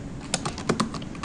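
Quick, steady keystrokes on a computer keyboard as code is typed into an editor. The clicks are close and clear, with a few louder taps standing out and no talking.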